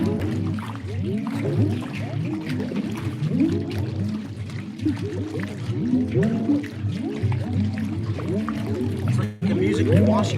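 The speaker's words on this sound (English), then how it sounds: "Basically a drum with notes." A melodic tongue-style drum tapped while sitting in river water, a busy stream of pitched, bubbling tones running steadily with a splashy, watery texture; people talk at moments in the background.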